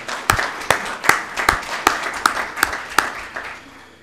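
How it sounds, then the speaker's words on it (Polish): Sparse, rhythmic hand clapping in a church at a baptism service, as a congregation welcomes its catechumens; distinct sharp claps repeat at a steady pace, nearby and fairly loud, fading toward the end. "Przywitajmy ich oklaskami serdecznie."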